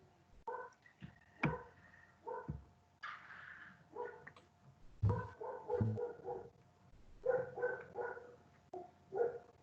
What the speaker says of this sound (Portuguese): Nossa, meu cachorro tá muito louco